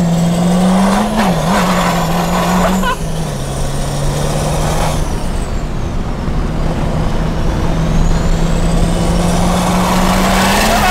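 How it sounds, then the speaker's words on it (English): A Duramax LLY diesel pickup fitted with a hood stack, built to about 1200 hp, drives through Ohio streets. Its loud, steady engine drone holds throughout, with a brief rev and a rising pitch near the start, then a long sustained cruise. "going for a little rip in the Duramax, got the hood stack"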